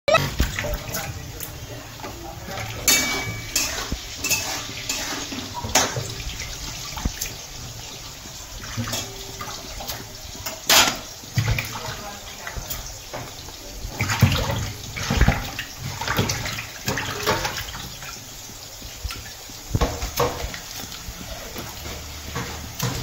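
An item is washed under running water at home, with a steady splashing flow broken by repeated knocks and clatters over about twenty seconds; voices are faint in the background.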